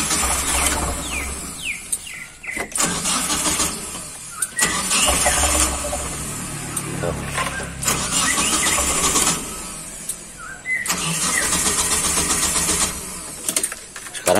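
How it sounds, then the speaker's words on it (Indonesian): A car with a stalling fault, engine dead and refusing to start, cranked repeatedly by the starter in several long whirring bursts with squeaky, rattling tones and short pauses between attempts, loud and close. "Kita akan nyalakan mesinnya."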